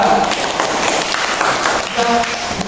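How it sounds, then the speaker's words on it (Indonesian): A classroom audience gives a group of students a round of applause, dense steady clapping filling the room for a few seconds with some voices mixed in. "Beri tepuk tangan untuk kelompok 2."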